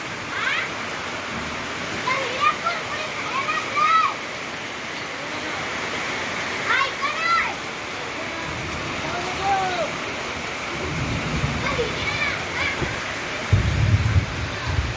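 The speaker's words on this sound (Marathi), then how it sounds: "गरजून पाऊस पडायला लागला आता" Heavy monsoon rain pours down steadily in rural Maharashtra, a continuous dense hiss with no distinct thunderclaps standing out.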